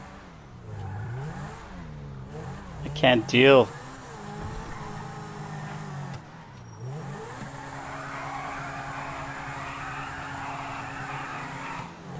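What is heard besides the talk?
car engine revving in video game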